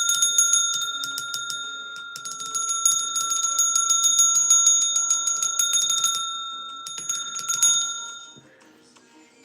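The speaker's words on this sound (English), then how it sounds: "Ring that bell." A small bell, like a bicycle bell, rings loudly in rapid, bright metallic trills. The bursts repeat for several seconds with brief pauses, then fade toward the end.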